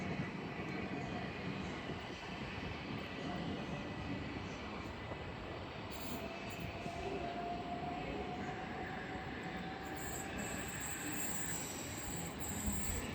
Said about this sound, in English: As another South Western Railway RTO arrives in for London Waterloo.